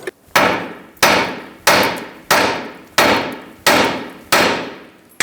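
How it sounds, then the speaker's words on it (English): Hammer blows on a Toyota Camry (2007-2011) steering knuckle beside the tie rod end: six loud, sharp metallic strikes at a steady rhythm, each ringing briefly before the next, close up with no talk. "Hit the side of the knuckle near the tie rod end with a hammer."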